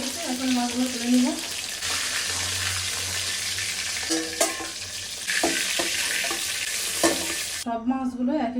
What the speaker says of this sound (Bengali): সব মাছগুলো একইভাবে ভেজে নিব